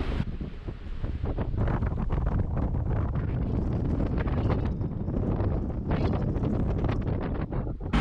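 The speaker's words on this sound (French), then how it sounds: "Ça a soufflé 25 nœuds toute la nuit et ça continue à souffler." Strong 25-knot wind buffeting a boat on a river in Portugal, a continuous loud roaring rush with gusty rumble, close to the microphone and without any talk.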